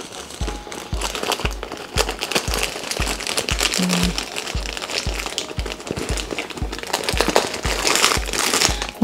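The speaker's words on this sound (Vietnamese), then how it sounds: "mỗi lần mình chỉ xé một gói như vậy thôi" A packet of tongue-cleaning wipes soaked in saline being torn open, a steady close crinkling and crackling of thin packaging with sharp rips and rustles throughout.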